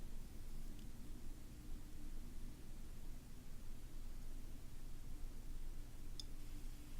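FM radio static hissing steadily from a Creative Zen Nano Plus portable player while it seeks between stations, a continuous broadband noise with a low hum and a couple of faint clicks.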